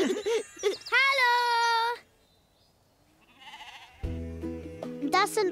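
A farm sheep gives one loud, wavering bleat lasting about a second, followed by a quiet stretch and then a burst of bright music.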